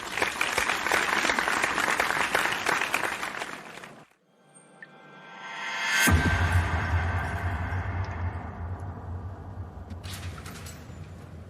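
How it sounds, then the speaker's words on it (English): Loud audience applause for a guest fills the first few seconds, then cuts away to near silence before a low rumbling tone and hum swell in and carry through to the end. "A round of applause for Mr. Pierre as we open the doors for a commercial break."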